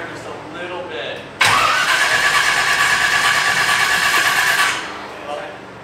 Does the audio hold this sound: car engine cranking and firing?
yes